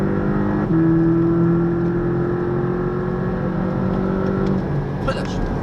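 Porsche 718 Cayman engine on a racetrack, droning loudly and steadily as it revs up after a shift into fourth gear, with a distinct pitch step early on and a burst of noise near the end.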